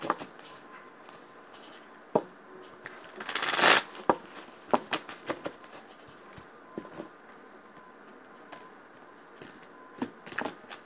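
Tarot cards being shuffled by hand, a soft papery riffle with a brief louder burst of rapid flicking, followed by scattered light taps and card handling, quiet and close.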